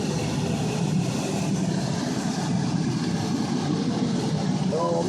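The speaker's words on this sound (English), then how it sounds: "You can hear the engine more there" A car engine runs while driving, a low continuous rumble and road noise filling the cabin, with no clear speech.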